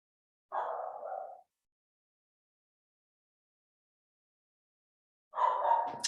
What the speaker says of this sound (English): my dog is making noises.